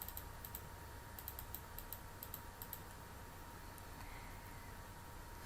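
Steady clicking of keys on a computer keyboard, quick irregular bursts over a constant low hum, no voices.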